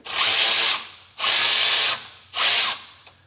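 Three loud bursts from a Milwaukee power wrench (impact tool) on a rusty Chevy Nomad, each about a second long with short pauses between, breaking a bolt loose up close with no talk.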